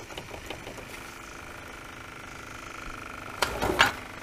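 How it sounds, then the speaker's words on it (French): A steady mechanical whirring hum runs throughout, a Renault Scenic's faulty electric fuel pump droning with faint clicks, ending in a brief louder clatter. "La pompe, on l'entend, elle fonctionne. Elle fait un drôle de bruit par contre."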